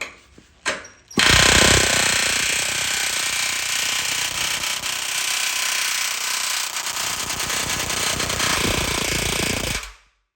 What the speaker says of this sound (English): my air hammer is not very strong